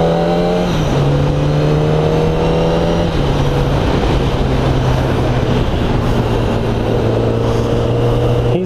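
A brand-new Kawasaki ZX10R motorcycle engine revs steadily and loudly, its tone holding then stepping down and shifting in pitch over several seconds, close by with no voices.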